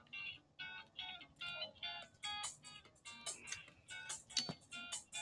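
A phone ringtone plays during a blacksmith forge live stream, a faint, repeating electronic melody of short tonal pulses that continues steadily over low background noise.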